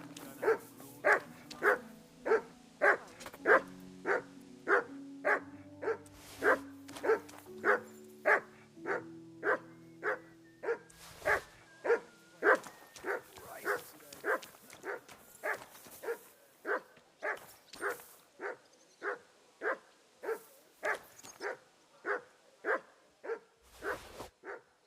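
A dog in Kingdom Come Deliverance 2 barks in a steady run of around forty evenly spaced, loud, close barks, with low whimpering whines threaded beneath them through the first half.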